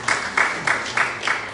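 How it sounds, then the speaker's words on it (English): A small audience gives a short round of applause, with regular bursts of clapping that are moderately loud. "A round of applause"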